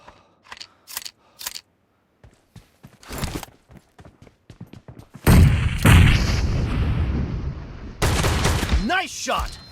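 Shotgun gunfire in the mobile battle-royale game PUBG Mobile, a run of sharp separate blasts in quick succession, followed by a louder, sustained stretch of dense firing and noise.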